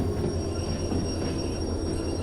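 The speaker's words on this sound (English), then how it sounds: "let's go ahead and slow this train down here a little bit" A locomotive slowing down in the train simulator game Derail Valley gives a steady, unbroken rumble and mechanical hum that holds an even loudness throughout, close and fairly loud, with no talking.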